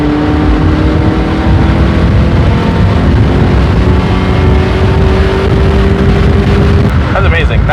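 A Mazda Miata engine fitted with a knockoff K&N intake pulls hard in second gear toward 6,500 RPM, a loud, close, rising drone with steady wind buffeting heard from inside the car.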